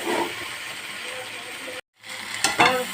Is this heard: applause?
no